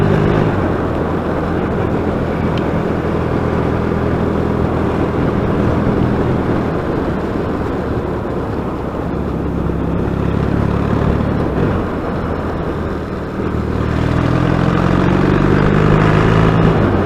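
Yamaha XS650 motorcycle on a test ride, a steady loud engine drone mixed with wind rush, dipping slightly near the end before rising again as the engine pulls harder.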